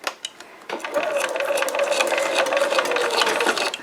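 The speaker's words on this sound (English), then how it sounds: "Now then you're going to make your machine sew backwards." A domestic sewing machine runs in reverse, putting in a short backstitch as a steady whirring needle drive with mechanical clatter, close and loud after a few opening clicks.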